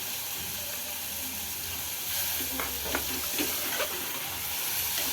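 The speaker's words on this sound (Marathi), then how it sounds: "हे भिजून घेतलेले वाटाणे टाकायचे आहे यामध्ये" Soaked white peas drop into sizzling masala and get stirred, a steady close fry hiss swelling midway with scraping, clattering stirring strokes; nobody talks.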